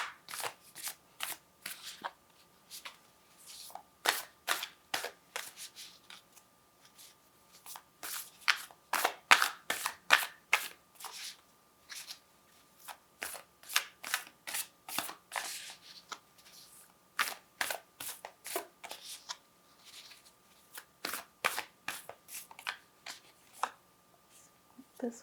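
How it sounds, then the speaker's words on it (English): Oracle cards from an Animal Spirit deck being shuffled in a quiet room, a long run of crisp riffling bursts in uneven rhythm with short pauses between, close and soft, with no talking. "So I told you I was going to shuffle 2 more cards"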